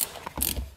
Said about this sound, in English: now we're going to take our big 17 millimeter bolt and we're going to tighten it.